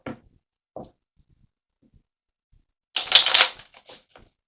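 Oracle cards handled during a healing card reading: a few faint taps, then a burst of crisp riffling and sliding as the deck is shuffled and a card drawn, close up and without talk.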